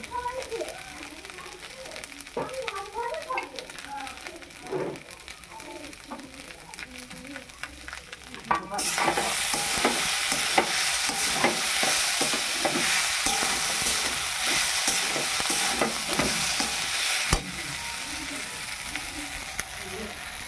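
Leftover rice fries and is stirred with coriander leaves in a pan, a steady sizzle with scraping strokes that grows louder midway and continues without talk.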